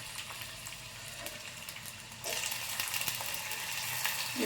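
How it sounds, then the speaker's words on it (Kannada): Onions fry in oil in a pan, a soft sizzle that jumps to a louder, fuller hiss partway through and then holds steady, quiet and close with no speech. "ಈರುಳ್ಳಿ ಹಾಕಿ ಸ್ವಲ್ಪ ಹಸಿ ಸ್ಮೆಲ್ ಬರೋವರೆಗೂ ಫ್ರೈ ಮಾಡ್ಕೊತೇನೆ."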